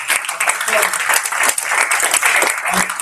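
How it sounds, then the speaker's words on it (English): A live audience at a Beachbody Super Saturday event applauds with loud, steady clapping and scattered cheers, and voices are heard underneath. "give yourself a round of applause for being here"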